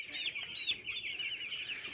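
Chickens crowded in a poultry shed, drinking water, cluck and chatter continuously in overlapping high, nasal calls at close range, forming a busy, steady flock murmur with no talking.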